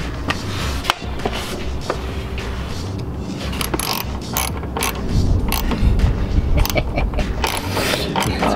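A ratchet tightens a 10 mm bolt on a JBR Raider's air dam under a Mazdaspeed 3, giving close, repeated clicking and creaking mechanical strokes over a low, steady background.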